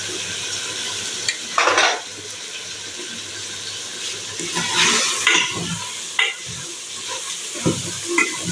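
Meat and onions frying in a pan give off a steady sizzle while a utensil stirs and scrapes in irregular bursts, close and moderately loud, with no talking.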